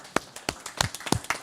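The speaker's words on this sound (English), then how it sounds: "She deserves a round of applause." Sparse, separate handclaps from a small audience at a housing press conference, about eight sharp claps in a quick, uneven rhythm, close and fairly loud, with no voices.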